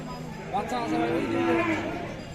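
A crossbred dairy cow moos at a busy cattle market near the Indian border, one long drawn-out low call rising and falling over murmuring voices of buyers and sellers.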